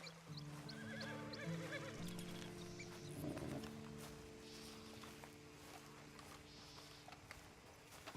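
A horse whinnies in the video game Red Dead Redemption 2, a clear neigh early on followed by soft snorts and ambient game sounds, fairly quiet overall.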